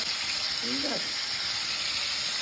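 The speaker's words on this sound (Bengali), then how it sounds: "এবার মাছ ভাজাভাজি শুরু হচ্ছে" Katla fish frying in a hot pan, a steady broadband sizzle and hiss running throughout at even loudness, with a brief voice-like murmur partway through.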